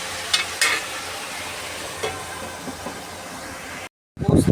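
Thin-cut potato strips frying in a pan with salt, turmeric and a little chili powder, a dense hiss of sizzling with a few stirring knocks, ending in a brief cutoff and louder clatter.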